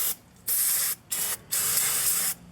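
Brake parts cleaner sprayed onto the front brakes of a Hyundai Santa Fe: four close, loud aerosol hisses, short bursts first and then one long steady spray, with brief quiet gaps between them.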